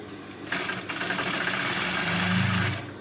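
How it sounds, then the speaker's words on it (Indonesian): Sewing machine stitching half a centimetre from the edge while making a shirt collar, a steady close mechanical whir that starts abruptly, runs continuously for a couple of seconds and then stops. "jahit setengah senti dari ujung pinggir."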